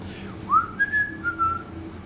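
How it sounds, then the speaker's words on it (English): A person whistles a short sliding tune, one rising swoop followed by a few held, wavering notes, close and clear with no talk over it. "put her hands in her pockets, and began to whistle."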